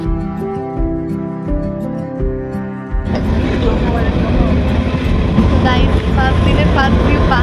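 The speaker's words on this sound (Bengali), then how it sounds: "তো বসে পড়েছি আমরা, ট্রেন ছেড়ে দিয়েছে অলরেডি।" The Shivalik Express on the Kalka–Shimla line, heard as a loud, continuous rumble and clatter of the running train that swells and grows rougher partway through, with tonal sound audible before it.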